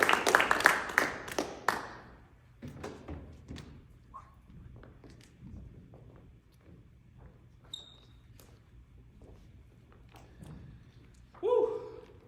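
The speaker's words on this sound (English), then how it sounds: "So everybody clap it up for Mr." Scattered audience clapping fills the start of a school awards ceremony for young men, a burst of close claps fading over about two seconds into sparse taps, thumps and faint voices, with a brief cheer near the end.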